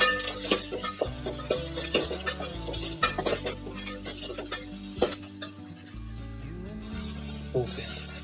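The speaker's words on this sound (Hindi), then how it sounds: "अब हम मटर को दोस्तों फ्राई करेंगे।" Green peas fry in a pan as a spoon stirs them, with a steady sizzle under repeated scraping and clinking of metal against the pan throughout.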